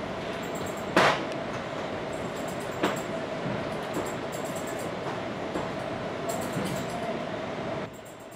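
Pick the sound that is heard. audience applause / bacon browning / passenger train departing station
passenger train departing station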